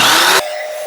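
A power saw cuts a 45-degree angle on window trim, a loud, close, broadband whine that stops abruptly partway through, leaving a quieter hum behind.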